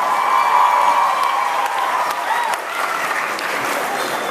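Audience applause at a speech at Yale, a steady, dense wash of clapping from a large crowd that holds for several seconds and eases slightly toward the end.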